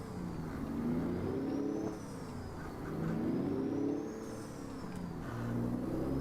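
A truck engine in a simulator video game revs in several rising and falling surges, a mid-pitched whirring drone heard close and alone.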